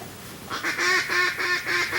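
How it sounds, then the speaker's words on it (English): Several raspy duck quacks sound in a quick rhythmic series during a duck hunt, moderately close and fairly loud over a faint outdoor background. "Oh, the ducks are coming in."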